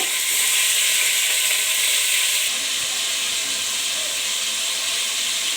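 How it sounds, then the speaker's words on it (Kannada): Chicken pieces frying in a pan over a slow flame for chicken kurma give a loud, steady sizzle and hiss that runs without pause, easing slightly partway through, with no talking. "ಮಾಂಸ ಹಾಕೊಂಡು ಸ್ವಲ್ಪ ಸ್ಲೋ ಫ್ಲೇಮ್ ಮಾಡಿ ಇಟ್ಕೋಬೇಕು"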